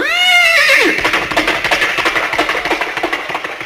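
A voice imitates a horse, giving a loud whinny, then goes straight into a rapid rhythmic clip-clop of galloping hooves, close and energetic.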